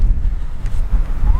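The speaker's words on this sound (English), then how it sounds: "Today's the first day that it has been windy as hell" Strong wind buffets the microphone at a beach, a steady low rumbling roar with gusty surges throughout, loud and close, no voices.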